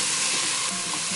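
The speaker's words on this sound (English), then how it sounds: "we'll just keep stirring for a couple minutes" Aromatics sizzle steadily in a pan while being stirred for BBQ sauce with huckleberries and whiskey, a dense close frying hiss with faint scraping underneath.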